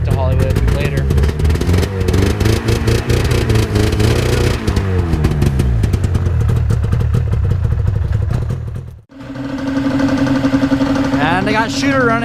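A Yamaha snowmobile engine runs loud and close, rough and clattering near idle. It drops out briefly near the end, then picks up again.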